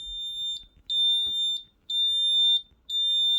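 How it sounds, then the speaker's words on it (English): An alarm from an FPGA-based home security system sounds in four loud, piercing bursts, each about 0.7 seconds long, separated by short silences, with no voices. "you already set the alarm system, but somebody opened a window or door for some reason."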